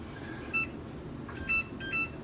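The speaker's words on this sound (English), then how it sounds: "Turn the oven back on, timer." Oven timer in a home kitchen while baking an oatmeal raisin pie, giving three short electronic beeps spaced about half a second to a second apart over a quiet room hum.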